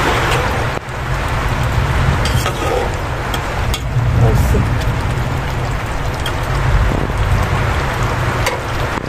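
Heavy rain falls steadily outside during home cooking, a dense, continuous hiss of downpour that holds loud and even throughout, with a voice speaking faintly under it.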